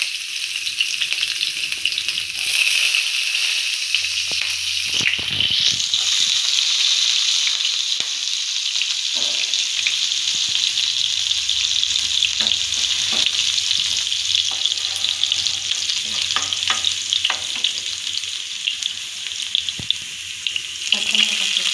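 Garlic dropped into well-heated oil, a steady loud hiss and sizzle lasting throughout, with a few faint clinks and stirring scrapes, no talking.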